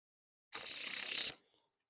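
A deck of Coca-Cola playing cards is swept into a wide fan, giving one smooth, close, crisp riffling whoosh lasting under a second, then quiet.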